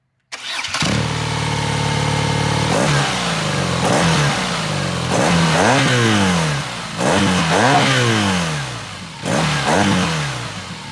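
A BMW R NineT boxer motorcycle engine fires up and idles, then is revved repeatedly in rising and falling bursts, loud and close, with no talking.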